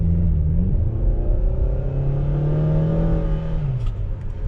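A 2020 Dodge Journey Crossroad's engine revs hard, a loud, steady rumbling drone whose pitch climbs, dips and climbs again, heard from inside the car with no talk.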